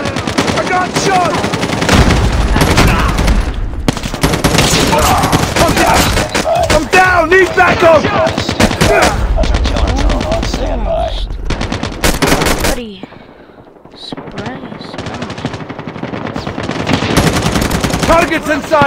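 Rapid automatic gunfire from Call of Duty Mobile rattles loud and close in dense bursts, pausing briefly near the end before the shooting resumes, with game voices heard among the shots.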